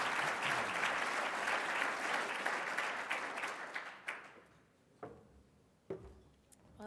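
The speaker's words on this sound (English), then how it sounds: "please join me in a round of applause for Jerry" An audience gives a round of applause, dense clapping that holds for about four seconds, then thins out into a few scattered final claps and quiet.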